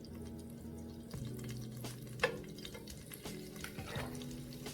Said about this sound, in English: Put in about 2 tablespoons of olive oil. And we'll go ahead and start adding the pieces of the pork in there.